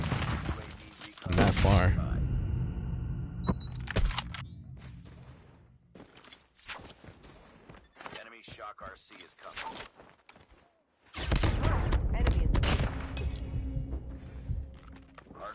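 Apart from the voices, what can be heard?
shotgun gunfire in a video game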